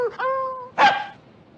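A man vocally imitates a dog with a can tied to its tail, giving a drawn-out, wavering whine followed by a sharp, louder yelp that trails off.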